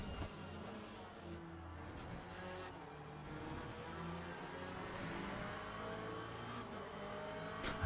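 Race car engine in Le Mans Ultimate at Portimão, a continuous loud droning roar with shifting revs and gear changes throughout, with hints of heavy braking and tyre noise.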